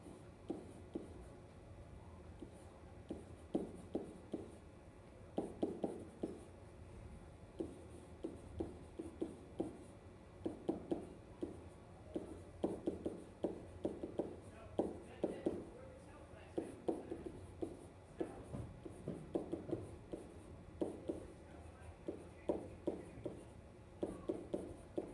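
Pen or pencil writing a full sentence on paper, with soft repeated scratching strokes in uneven bursts under a teacher's ongoing explanatory talk, close and faint.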